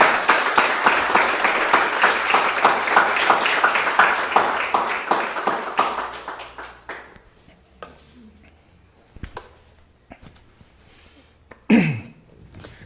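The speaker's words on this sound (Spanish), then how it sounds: "Fuerte ese aplauso para nuestro Dios, hermano" Congregation in a church service claps loudly and steadily in praise of God, a dense burst of applause that fades after about six seconds into scattered claps and quiet.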